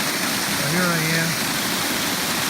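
Water rushing out of a dam and spilling over as a waterfall after heavy rain, a steady broadband roar filling the clip, with a brief voice heard faintly over it.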